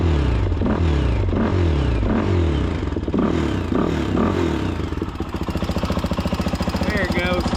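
A 2004 Honda TRX400EX ATV, with a leaking engine and a suspect timing chain tensioner, revs in several rising, throaty bursts, then settles into a fast, rhythmic, rattly idle close to the microphone.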